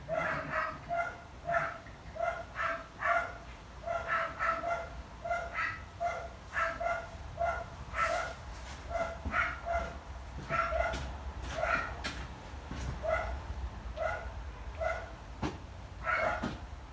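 A dog barks repeatedly in a home workshop while being ordered into its kennel, sharp yips at a quick, steady rhythm close to the mic with faint room noise underneath.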